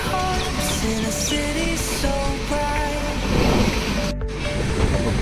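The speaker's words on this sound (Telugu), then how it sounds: "గూడ్స్ బండి కంటైనర్ గూడ్స్, ఇది కంటైనర్స్ ఉన్నది ఇప్పుడు. మన పక్కన కంటైనర్స్ అయితే చిన్నగా వెళ్ళిపోతూ ఉన్నాయి" A container goods train rolls slowly alongside a moving Simhapuri SF Express sleeper coach, giving a loud steady rumble and rail hiss with high squealing wheel tones and faint clatter.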